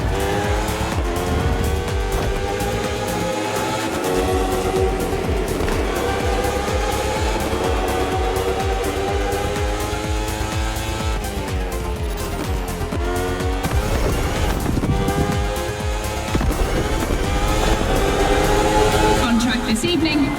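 A KTM RC16 and a Ferrari 488 GT3 race each other in The Crew Motorfest, with engines droning continuously and rising in pitch under a steady music bed, marked by brief tire squeals.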